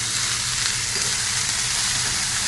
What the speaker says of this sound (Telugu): ఇప్పుడు ఈ ఫ్రైని అటు ఇటు తిప్పుతూ కొంచెంసేపు వేయించుకోవాలి